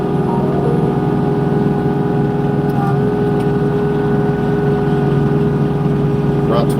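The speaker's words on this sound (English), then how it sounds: "If you're just wondering, this is a diesel tractor." Kubota LX2620 diesel cab tractor, around 25 horsepower, steadily running while plowing snow with a Titan plow: a constant loud droning hum heard close up with no break.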